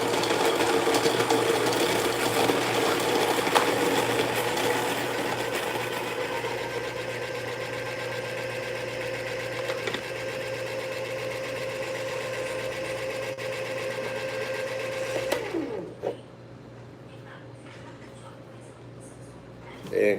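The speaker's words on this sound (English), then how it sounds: "I'm just going to run some of this beans through this so I get a sense of what the grind is." A Baratza Virtuoso burr grinder runs through coffee beans with a steady, loud mechanical whir for about fifteen seconds, then winds down and stops, leaving near silence.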